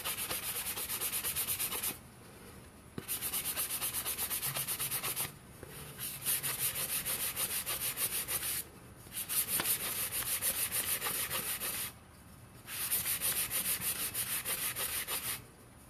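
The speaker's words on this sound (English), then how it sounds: "So I always go over my sanding with the 400." Steady scratchy rubbing of 400-grit sandpaper on a cup, in long back-and-forth passes with short pauses between them, close and continuous.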